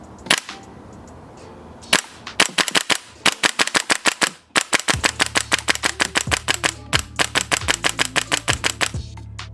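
An HPA-tapped WE MSK airsoft gas blowback rifle fires a long run of sharp, evenly spaced shots at close range, a few single cracks first and then a rapid steady string with mechanical clacks.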